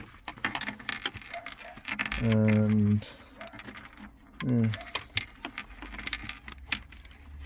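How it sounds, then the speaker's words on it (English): Car keys jingle and clink close by as they are pulled from the ignition, brief scattered rattles under a man's speech, with a short steady tone sounding twice in between. "let me just take my keys out"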